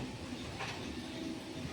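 Tamil Nadu Express train rolling at a station platform, a steady broadband rumble of wheels and carriages that stays loud and constant throughout, with no talking.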